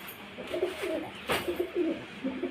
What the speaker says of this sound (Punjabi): ਆ ਆਪਣਾ ਕਬੂਤਰਾ ਤੇ ਆ ਕਬੂਤਰੀ